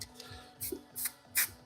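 Spray paint can hissing onto wood panels in a studio, three short bursts spaced about 0.4 seconds apart with quiet gaps between, fairly close and moderate in volume.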